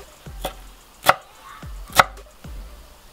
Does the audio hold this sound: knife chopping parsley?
yes